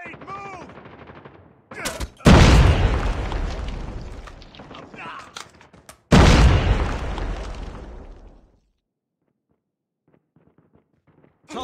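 Two heavy grenade blasts in Call of Duty Mobile gameplay, each a sudden loud boom with a rumbling, decaying tail, the second arriving a few seconds after the first, then fading to near silence with faint scattered sounds.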